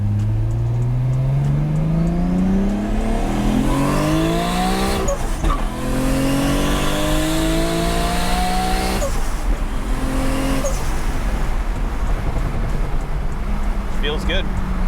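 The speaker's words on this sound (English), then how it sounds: "We'll do a first and second gear pull here." Top Secret Japan built Nissan Skyline R33 pulling hard through first and second gear, the engine note climbing steeply, dropping at the shift, then climbing again, loud and close from inside, with brief speech over it.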